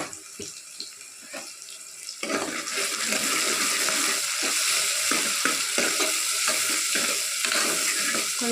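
Onions fry in a pan for chicken curry, starting as a soft crackle and swelling into a loud, dense, continuous sizzle with scattered spoon scrapes, close up and without talk.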